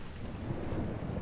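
Brief burst of rumbling thunder mixed with rain in an animated cartoon, a dense low roar filling the moment without any speech.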